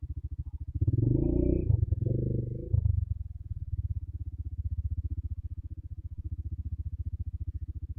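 A motorcycle engine idles close by on a mountain road between Shogran and Siri Paye, Pakistan, with a steady low rumble, revving briefly louder near the start before settling back into an even putter.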